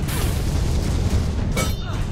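A heavy booming impact lands on the player character in Alice: Madness Returns, a dense rumbling blast with a sharp crack near the end, in a noisy game mix.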